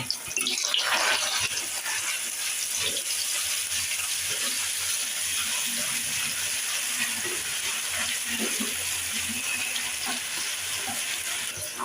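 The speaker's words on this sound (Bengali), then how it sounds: "আমি এখানে এক চা চামচ আদা বাটা এবং এক চা চামচ রসুন বাটা দিয়ে তেলটাকে ভালো করে আদা রসুনটাকে ভেজে নিব" Ginger and garlic paste fries in hot oil for a chicken momo filling, giving a steady, moderately quiet sizzling hiss with faint clinks of stirring throughout.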